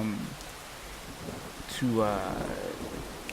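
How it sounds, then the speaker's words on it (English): Steady rain falls as a soft, continuous hiss behind a podcast, with a brief rumble like distant thunder partway through. "I have raining in the background, because to me rain is calm"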